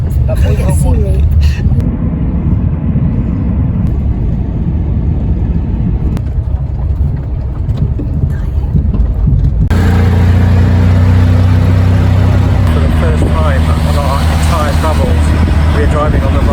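A car drives on a road in Siem Reap, Cambodia, giving loud continuous engine and road rumble that swells louder and busier halfway through.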